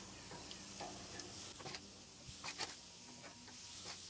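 Burgers set directly over the coals of a Weber Ranch kettle grill, giving a soft, steady crackling sizzle with faint ticks, close and quiet, no talking.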